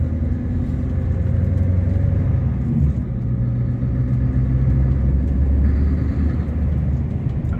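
Scania S770 truck, engine still cold, idling and pulling away gently: a steady, loud low rumble with the engine note shifting slightly as it moves off, no voices.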